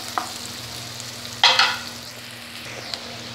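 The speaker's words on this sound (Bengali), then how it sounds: "আদা রসুনটাও ভাজা ভাজা হয়ে গেছে" Chopped ginger and garlic frying with onion in a pan, a soft steady sizzle with one brief louder burst of hissing and stirring midway, no talking.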